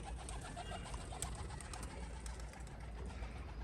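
Faint pigeon coos murmur from a pigeon loft over a steady background hiss, quiet and continuous.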